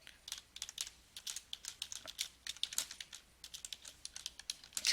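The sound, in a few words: typing an address on a computer keyboard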